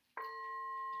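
A clear meditation chime is struck once and rings on as a sustained, pure metallic tone in a quiet room.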